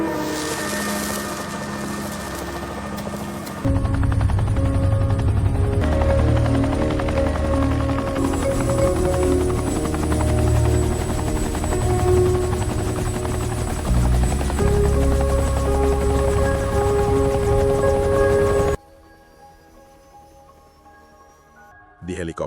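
A helicopter's steady, loud rotor and engine drone holds for about fifteen seconds, then cuts off abruptly into a quiet stretch, with voices talking over it in places.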